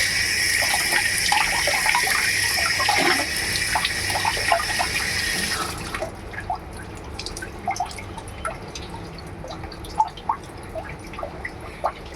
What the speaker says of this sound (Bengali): আবারও শোল মাছটাকে জলে ভালোভাবে ধুয়ে নিচ্ছি